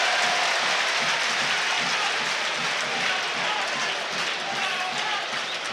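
Charlton Athletic's home football crowd applauds during a match against Blackpool, a dense, steady wash of clapping and crowd noise that holds evenly throughout.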